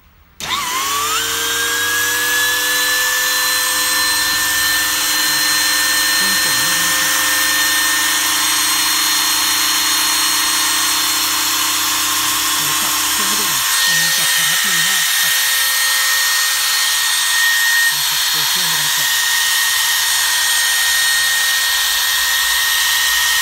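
An Ingco string trimmer starts up and runs steadily with a high whine, close and loud, shifting pitch partway through as it keeps running; no one talks over it.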